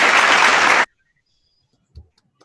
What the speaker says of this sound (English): let's give Dr. Hera a very big round of applause